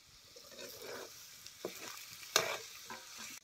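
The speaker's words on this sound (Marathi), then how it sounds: "आता हे पालक बी बटाटा सगळं त्याला चांगली खालवर करून घ्यायचं" A spatula stirs spinach and potatoes in a frying pan: soft sizzling under a few distinct scrapes and one sharp clack, close and fairly quiet, with no voices.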